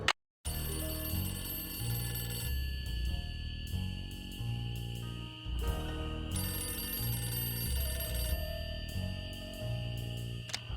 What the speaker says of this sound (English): here I sit, writing to you while I wait for the phone to ring.